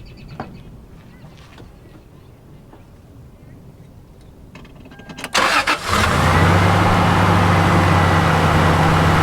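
A Toyota 4Runner engine cranks briefly, then catches and settles into a steady, loud idle after a quieter stretch of faint background noise.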